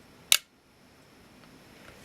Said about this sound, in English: with bright light pointed at it, we can hear the shutter very quickly